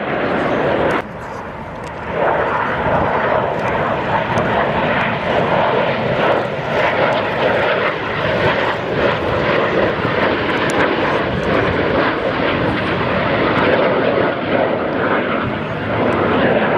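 Display team jets flying past in close formation at the Royal International Air Tattoo 2014 airshow, a loud continuous roar that holds steady for the whole stretch, with a brief dip near the start and an announcer's voice beneath.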